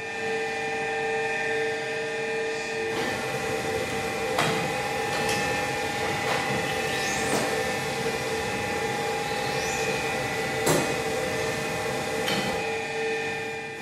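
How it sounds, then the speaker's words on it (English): A screenprinting table's vacuum bed, switched on by foot pedal to hold paper flat, runs as a steady droning hum with tonal whine throughout, broken by a few sharp clicks and brief squeaky sweeps near the machine. "The noise you're hearing is the vacuum bed, which is holding the paper in place."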